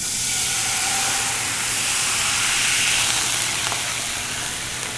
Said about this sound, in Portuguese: Vou deglaçar aqui para aproveitar todo esse fundinho de frigideira com vinho branco.